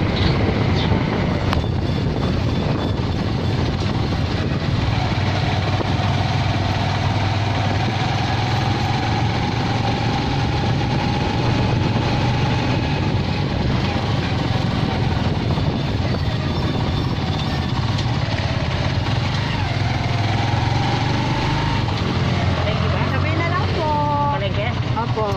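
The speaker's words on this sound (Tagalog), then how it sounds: "Mabilis ang pagpapaandar ni Kuya ng kanyang motor." A motorcycle engine drones steadily while riding, mixed with rushing wind buffeting the microphone, continuous throughout.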